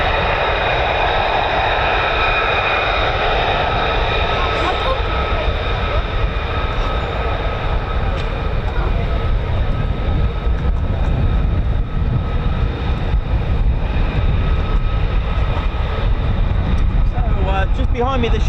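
A US Air Force F-15 or F-35 fighter jet roars past at RAF Lakenheath. The engine noise is loud, broad and sustained and rises toward the end, with a person talking beneath it.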